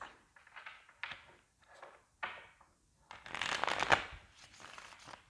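Tarot cards are shuffled up close in several quick riffling, papery bursts, ending in a longer, denser shuffle, with no voices.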